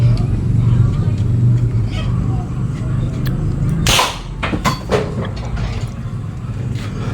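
A homemade PVC toy gun loaded with marbles fires once with a sharp, loud pop outdoors, followed by a few smaller knocks, over steady background rumble and some talk.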